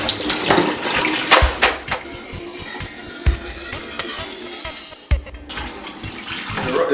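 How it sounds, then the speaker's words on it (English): Callaloo leaves being rinsed under running cold water in a colander, a loud, steady close-up gush of water with splashy thuds and clatters as the greens are handled, briefly pausing near the end before resuming. "So you just rinse that real nice."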